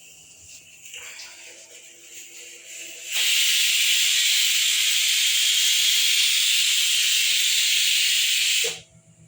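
Methi thepla cooks on a hot stove, with low faint clatter giving way to a loud, steady hiss that holds for about six seconds and then stops abruptly.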